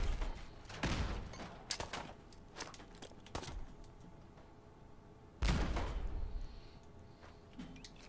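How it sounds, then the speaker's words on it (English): Grenade explosions in the video game Fallout 4, a few sharp booming blasts spaced seconds apart, one heavy blast with a long rumbling tail, mixed with smaller game impacts. "Wow, these grenades throw poorly."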